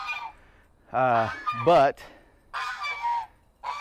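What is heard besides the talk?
chickens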